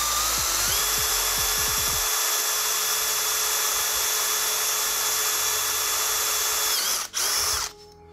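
A power drill with a wood drill bit bores a hole in wood, its loud steady high-pitched whine running continuously after a few short stuttering starts, then cutting off abruptly near the end.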